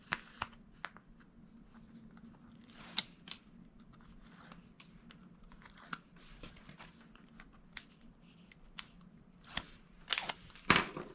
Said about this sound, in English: I am going to remove the tape backer from both of these pieces